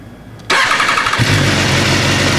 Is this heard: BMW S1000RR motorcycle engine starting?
yes